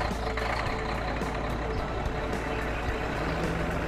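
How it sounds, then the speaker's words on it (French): A cartoon fire truck heads back to the garage, its engine rumbling steadily while beeps repeat and a brief air-brake hiss cuts in, all at moderate level with no talking. "Le camion de pompiers rentre au garage"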